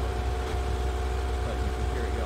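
RotaryCraft gas engine from the Minecraft mod, running on ethanol with a constant loud low drone and a whining hum, while a voice talks faintly over it.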